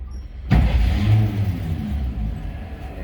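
A 1949 GMC 100 five-window pickup engine cranks and fires at once, settling into a steady, low, smooth idle rumble that continues close by and unaccompanied.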